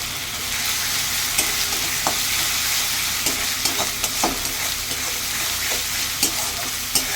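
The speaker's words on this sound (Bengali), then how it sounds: "এবার আমি আদা রসুনের 1 চামচি পেস্ট দিচ্ছি।" Ginger-garlic paste fries with browned onions in a pan for a prawn malai curry. A dense, loud sizzle is heard close up, with scattered sharp clicks of a spatula stirring against the pan.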